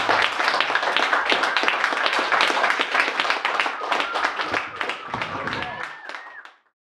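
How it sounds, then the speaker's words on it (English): An audience at a talk at Burning Books gives a round of applause, dense clapping and tapping that runs steadily for about six seconds and then stops abruptly. "so give them another round of applause."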